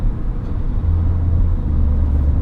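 A Peugeot 2008 with a 1.2-litre three-cylinder engine accelerates, heard from inside as a loud, steady low engine rumble that swells slightly as speed builds.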